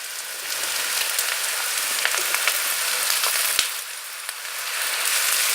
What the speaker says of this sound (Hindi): भिंडी और प्याज को अच्छी तरह भूनना है।